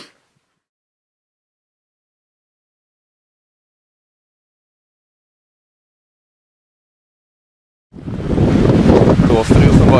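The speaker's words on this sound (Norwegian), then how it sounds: "Blåser jo som bare det her." Silence gives way in the final two seconds to loud, blustery wind roaring across the microphone on a mountain trip in New Zealand, close and steady with rough gusts.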